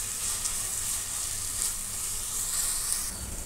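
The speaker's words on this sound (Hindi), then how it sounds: "अब अदरक का पेस्ट भी डाल देंगे और इन सबको मिक्स कर दें और थोड़ा सा भून लें ताकि अदरक लहसुन का कच्चापन खत्म हो जाए।" Ginger garlic paste frying in a pan for a creamy white chicken stew gives a steady, close, even sizzle with a bright hiss throughout and no speech.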